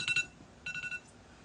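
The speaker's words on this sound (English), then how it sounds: "That's my first alarm of the day" Phone alarm going off early in the morning, two short bursts of bright electronic beeping separated by a brief gap, fairly faint and heard alone.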